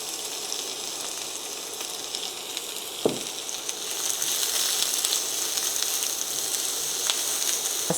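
Prepared onions drop into a hot pan for an Ethiopian shiro dish, setting off a broad, steady sizzle with a sharp splash-like burst partway through, after which the frying grows slightly louder and keeps hissing evenly.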